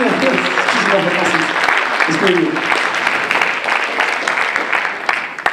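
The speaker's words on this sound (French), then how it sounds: "On l'applaudit, allez, allez." Applause and crowd noise at a Microsoft Imagine Cup France 2013 app pitch event, steady throughout, with a voice speaking over it near the start.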